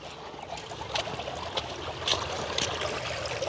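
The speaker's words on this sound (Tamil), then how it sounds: "அப்படி என்ன வேகமாக பாயுதான்னு பார்த்தீங்களா தண்ணி" Water pours fast out of a cut in a rice paddy field in a village, a steady, close rushing flow with bubbling gurgles and small splashes, and no voices.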